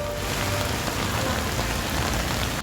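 Rain falls steadily in a continuous, even patter on surfaces, a dense hiss of drops close by that persists throughout with no voices.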